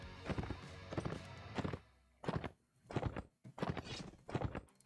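Horse hooves clip-clop in the medieval game Warsword Conquest, uneven bursts of hoofbeats with brief pauses, close and loud and without talk.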